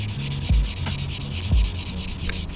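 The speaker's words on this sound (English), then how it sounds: "So to polish something, you actually have to rub them. Just keep on rubbing them" Tissue paper rubs polish onto KP31 car tail lights in quick, even back-and-forth strokes, close and fairly loud, with heavier thumps at the turn of each stroke.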